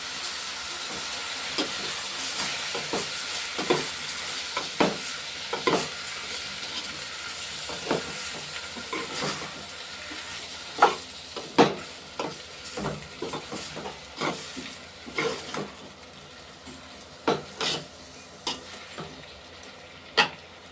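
Tomato pieces and masala frying in a pan, with a steady sizzle and repeated spoon taps and stirring clicks, close and continuous with no voices.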